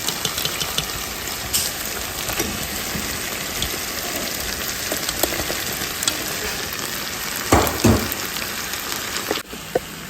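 Wrapped plantain frying in hot oil gives a steady, dense sizzle that runs throughout, with a few louder crackles and stirring scrapes near the end and no speech.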